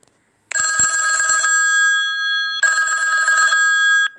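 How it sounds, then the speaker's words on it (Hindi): A phone ringtone rings in two loud bursts, a long one, then a short pause and a second burst, clear and close with nothing else around. "रिंगटोन को चेंज कर देंगे इसी में"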